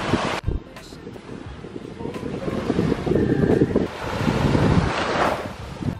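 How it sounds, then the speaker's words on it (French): Waves and wind on a beach on Koh Kood island in Thailand, with steady wind buffeting the microphone and surf rising and falling, while a voice speaks at times. "Ok, la plage de rêve, c'est tellement beau"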